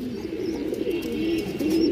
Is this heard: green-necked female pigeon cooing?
yes